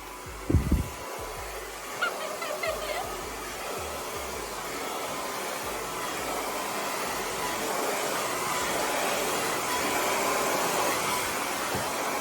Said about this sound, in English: So let's go in the blow dryer.